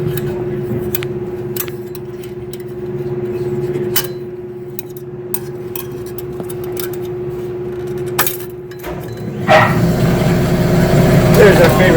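An air compressor runs in a garage where an engine is being removed from a 2018 BMW S1000RR. A steady hum with scattered metallic clinks gives way near the end to a loud, broad rushing roar as the compressor kicks in.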